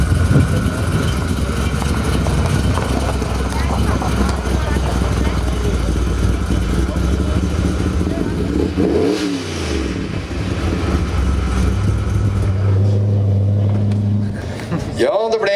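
A show-winning 1955 Chevrolet Bel Air idles with a low, steady rumble at a car show award presentation, with one rev swelling and dropping midway while a presenter speaks over it.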